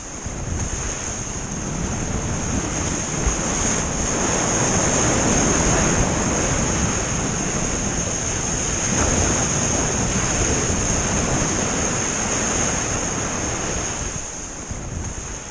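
Ocean surf breaks and rushes around a surfer riding waves, with steady heavy wind buffeting the microphone throughout; no voices.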